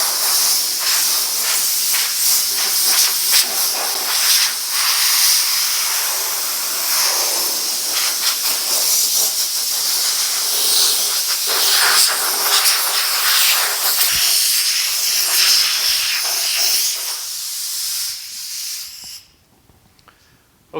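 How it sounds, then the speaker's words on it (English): An air hose blows a loud, steady hiss while 1950 Chevy truck parts, including the bed, tailgate and running boards, are tacked off before clear coat. The hiss runs continuously for most of the clip, then cuts off near the end. "I'm going to go ahead and tack these off all real quick with the air hose blowing at the same time"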